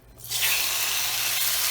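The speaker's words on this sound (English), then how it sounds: "love the sizzle." Chicken hitting about half a cup of hot oil in a pan for jalfrezi, breaking into a loud, steady sizzle that holds alone after a quiet start.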